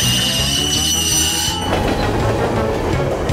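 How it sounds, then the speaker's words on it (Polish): A cartoon train brakes on slippery, snowy tracks, its wheels squealing in high sustained tones over a loud rumbling roll that turns rougher and grinding partway through, with no voices. "Dobrze, Ryder. Zaczynam hamować"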